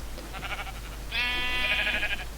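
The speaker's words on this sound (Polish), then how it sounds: "Już słychać owce" A Minecraft sheep bleats once in a drawn-out, wavering cry, preceded by softer animal sounds, with a low steady hum underneath.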